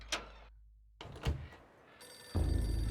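A telephone rings in the Eternal Darkness: Sanity's Requiem video game, with two sharp bell trills separated by a silent gap, then a steady hum and ambient drone rising at the end.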